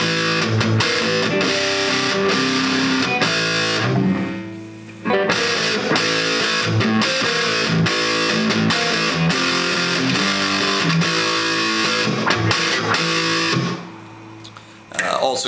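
A thick, heavily driven electric guitar plays loud, dense chords through a Roland Cube 20XL amp set to a stacked-cabinet tone, with brief drops in sound between phrases.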